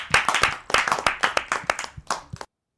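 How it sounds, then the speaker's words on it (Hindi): Clapping in welcome at a Holi festival poetry gathering, a short burst of distinct rhythmic claps from a small group, close and crisp, fading out after about two and a half seconds. "एक बार तालियां बजा करके आप सब स्वागत करिए।"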